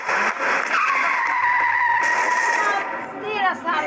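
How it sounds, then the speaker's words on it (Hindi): Cartoon car skids and hits a character: a loud, sustained tire screech sweeps across the clip, then tails off into a short squeal at the end. "गुल्ली एक गाड़ी से टकरा जाता है और वहीं गिरकर बेहोश हो जाता है।"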